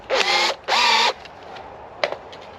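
A power drill bores into wood while making a pole lathe chair: two short whirring bursts close by, then near silence broken by a single sharp click.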